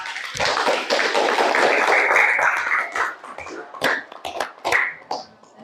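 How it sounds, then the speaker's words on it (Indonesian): Group 4 receives applause in a classroom: a dense burst of clapping fills the first three seconds, then thins into scattered individual claps before fading. "Beri aplaus untuk kelompok 4"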